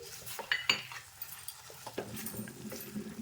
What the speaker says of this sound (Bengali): এবার আমি বড়িগুলো দিয়ে দিচ্ছি